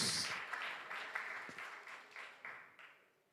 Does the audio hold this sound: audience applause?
yes